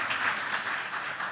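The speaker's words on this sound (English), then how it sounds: "You guys give yourself a big round of applause." Soft, brief applause from an academic conference audience, a short steady patter of clapping at moderate distance.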